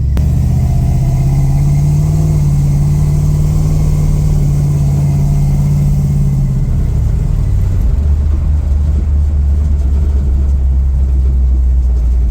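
A 1969 Plymouth Road Runner engine runs with a deep, loud exhaust rumble close by, holding a steady low drone that shifts down in pitch partway through as it settles into idle.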